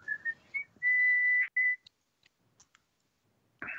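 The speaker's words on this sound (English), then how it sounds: "Who is whistling?" A person whistles a short tune of sustained and bending notes, close and clear, followed by a few faint clicks and a brief noisy burst at the end.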